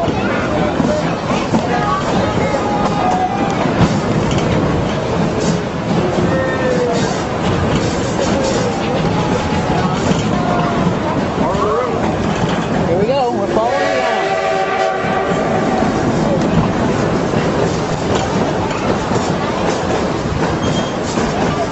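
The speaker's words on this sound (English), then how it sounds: "There's the train!" A Durango and Silverton train rolls past, with a loud continuous rumble and clatter of cars, then a long sounding of the horn midway, while people talk nearby.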